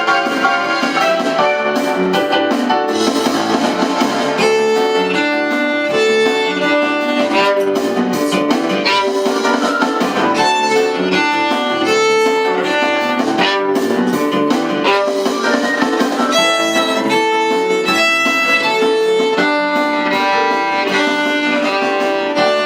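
A bowed string ensemble plays a piece, a dense, continuous texture of sustained and moving notes that stays loud and steady throughout with no talking.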